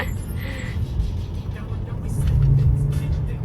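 A Ferrari and a Porsche run on a European highway, with a steady engine drone inside the car that swells into louder acceleration midway, while people talk over it.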